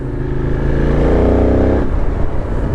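Benelli 752S motorcycle engine climbing through the revs, a loud close rising drone that builds steadily, then drops away with mechanical clatter near the end.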